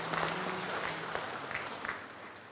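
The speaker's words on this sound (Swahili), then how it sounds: "Naomba tumpigie makofi mengi sana." A crowd at a Chato district meeting claps steadily through the whole clip, a dense moderate patter of many hands heard from within the audience.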